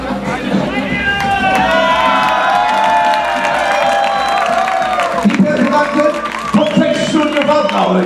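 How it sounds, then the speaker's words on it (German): A large crowd at a medieval knights' tournament in Freienfels, Germany, cheers and shouts loudly and continuously, with high whoops and whistles rising over the roar before a brief dip and a renewed swell. "Heute hier ein mächtiger Jubel für diese Verbindung."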